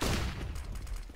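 A decoy grenade in Counter-Strike: Global Offensive imitates gunfire, a dense burst of rapid fake shots rattling at moderate distance and fading over about a second.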